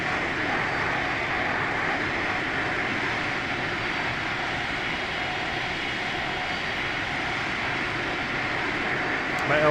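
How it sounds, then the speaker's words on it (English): Airbus A319 jet engines in a flight simulator produce a steady, continuous whining drone at an even loudness throughout, close and unbroken, with no change in pitch or level. "Listen to those engines."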